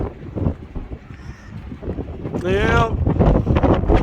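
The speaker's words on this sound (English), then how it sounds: "The wind is horrible today." Strong wind buffets a microphone outdoors during a dust storm, a loud rumbling roar under a person's talking.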